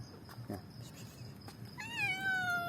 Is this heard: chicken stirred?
no